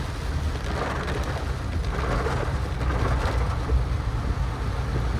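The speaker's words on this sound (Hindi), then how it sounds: "अभी ये देखिए भयंकर बारिश हो रखी है।" Heavy monsoon-style rain pours down on a car while a tourist vehicle drives through a downpour. From inside, it is a dense, steady roar with a low rumble beneath, and no one speaks.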